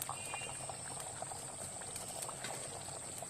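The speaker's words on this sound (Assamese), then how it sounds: "এয়া উতল আহিছে" Egg and potato curry simmers in a covered pot, giving a soft, steady bubbling that runs evenly throughout and stays fairly quiet.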